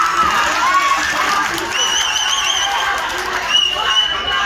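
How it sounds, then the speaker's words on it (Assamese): Crowd clapping and cheering at a political rally, a steady mass of applause with scattered shouts and whistles running throughout, loud and close with voices mixed in. "এটা ডাঙৰকৈ হাত চাপৰি লাগে"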